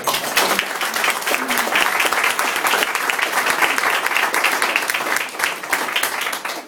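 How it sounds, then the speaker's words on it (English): An audience at an exhibition launch breaks into sustained applause, a dense, even wash of many hands clapping that holds steady and fades slightly near the end, with no talk over it. "I think we should give them a big round of applause."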